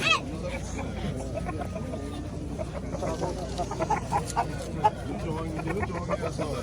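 A rooster crows and clucks among other poultry at the Quva bird market, the calls rising intermittently from a busy, crowded background with people talking throughout.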